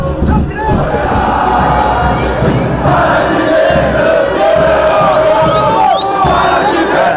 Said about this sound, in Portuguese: Todo mundo junto ali, batendo no som do bumbo.